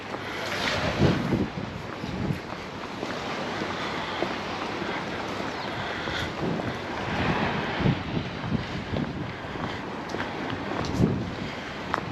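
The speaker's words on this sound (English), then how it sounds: "Particularly big waves, just ripples really, but some of them are getting quite far up the beach." Small ripple waves wash up a beach at Palmanova, Mallorca, a steady, soft surf wash that swells gently in repeated surges, with wind buffeting the microphone throughout and no talking.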